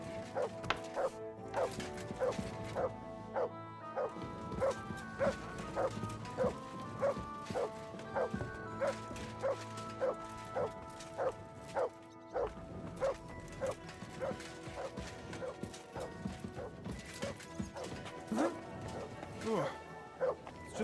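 A dog barks repeatedly in Kingdom Come Deliverance II, with sharp yips and woofs scattered under a busy bed of music and ambient game sound, alongside occasional clip-clop of hooves, while people talk.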